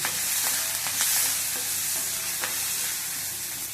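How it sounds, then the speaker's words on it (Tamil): Green chilies fry and are stirred in a pan while making coconut chutney: a steady close sizzle with scraping spoon strokes and occasional sharper crackles, without voices. "இப்போ பச்சை மிளகாய் போட்டுருக்கேன்."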